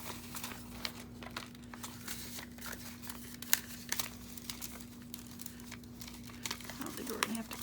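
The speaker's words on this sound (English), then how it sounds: "we're going to throw a couple envelopes in there." Paper envelopes for a handmade junk journal crinkle and rustle as they are handled, soft scattered crackles and a few sharper crinkles running steadily with a faint steady hum underneath, close and fairly quiet.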